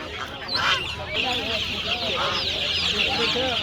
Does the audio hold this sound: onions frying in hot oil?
no